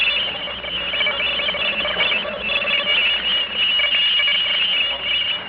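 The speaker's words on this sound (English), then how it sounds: "The next sound you hear is coming from outer space." An eerie radio drama sound effect of a signal from outer space, a steady warbling electronic noise pattern with high whistling tones, sustained and fairly loud throughout.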